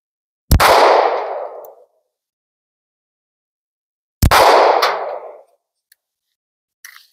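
SCCY CPX-2 Gen 3 pistol fired at a ham target outdoors, two sharp, loud single shots about four seconds apart, each followed by a trailing echo that fades out.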